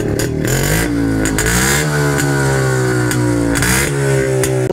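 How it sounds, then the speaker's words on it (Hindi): A JAWA motorcycle engine and exhaust rev repeatedly, the pitch rising and falling in several blips, loud and close with a throaty, continuous roar and no talking. "एक मोटरसाइकिल के साइलेंसर का या फिर उसके आवाज का"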